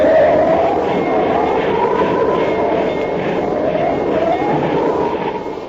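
A train sound effect in a radio drama, set on the approach to a mountain pass at Medicine Bow as a blizzard comes on, is a loud, steady rumble and rush that fades near the end.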